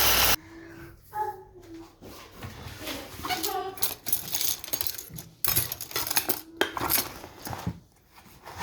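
Homemade garam masala spices are stirred in a pan, producing intermittent scraping and clinking of utensil against metal, close and moderately loud, with a person talking over parts of it.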